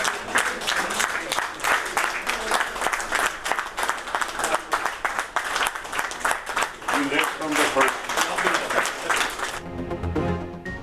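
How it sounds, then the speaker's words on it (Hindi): Applause welcomes Prime Minister Shehbaz Sharif at a cabinet meeting, a dense, steady patter of many hands clapping for about ten seconds before cutting off abruptly. "काबीना इजलास में वज़ीर आज़म शहबाज शरीफ का तालियों से इस्तकबाल"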